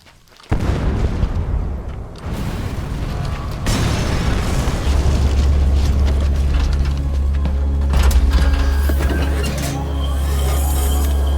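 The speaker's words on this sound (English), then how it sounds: "The security will be tighter after that explosion." A C4 charge detonates at a separator tank in Metal Gear Solid V: The Phantom Pain. It is a sudden loud boom followed by a long, heavy rumble and debris crackle that stays strong for several seconds.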